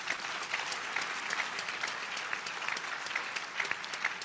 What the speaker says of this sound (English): give him a resounding round of applause